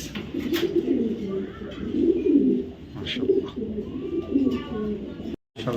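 A pair of black checker racing pigeons cooing in soft, repeated low coos that run steadily throughout, fairly close, with faint background noise and a brief dropout near the end.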